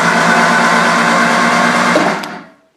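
A Triumph Spitfire that has sat unused for a while cranks on its starter, a steady close whirring drone for about two seconds that cuts off and fades quickly.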